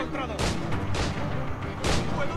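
Gunfire in Assassin's Creed IV: Black Flag during a jungle fight: three loud, broad booming shots about half a second apart rise above a dense, rumbling battle background.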